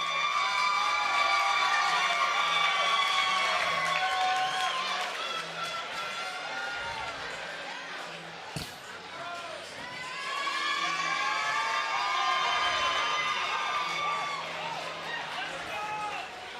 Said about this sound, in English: You hear those screams?